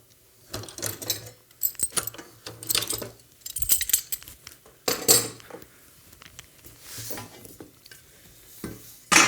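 A clamp being loosened and taken off a workpiece in a shop, a run of close metallic clicks, clanks and rattles in short separate bursts with quiet gaps between them.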